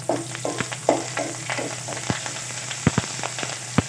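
Close sizzling of curry leaves frying in hot oil, with crackles and pops and a spoon scraping the pan as it is stirred.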